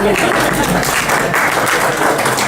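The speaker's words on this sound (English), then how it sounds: "You can applaud at that." Steady, dense applause from a political meeting audience fills the whole stretch, loud and continuous with no clear breaks.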